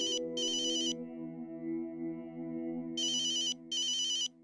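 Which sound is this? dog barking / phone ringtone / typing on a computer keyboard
phone ringtone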